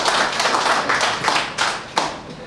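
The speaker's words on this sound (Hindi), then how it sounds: "ताली ताली तो जोरदार बजेगी" Audience at a live Hindi comedy poetry recital breaks into sustained clapping, dense and steady with a few louder bursts standing out from the crowd.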